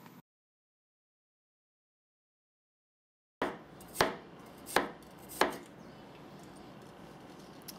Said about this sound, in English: crush the garlic and peel the garlic and then chop the garlic